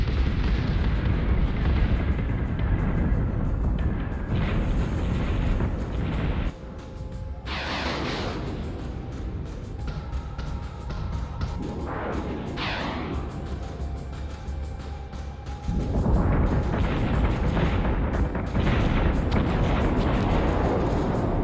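Heavy naval guns on a warship in the Ghost Fleet video game fire in a sustained rumble of deep booms and blasts, loud and continuous, briefly dropping back midway before the barrage swells again.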